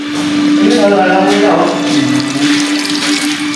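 Water pouring into a cooking pot holding fish, a steady rushing splash with a constant tonal hum beneath, while a voice talks over it.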